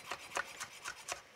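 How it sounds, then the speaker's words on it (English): Fresh tarragon being chopped with a knife on a cutting board, five soft, evenly spaced rasping cuts, close and quiet with no talking. "So I'm gonna just chop some of that up."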